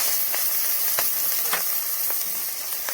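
Ginger-garlic paste with turmeric and green chili fries in hot oil, giving a loud, steady sizzling hiss with a few light stirring scrapes, heard close and without any voices.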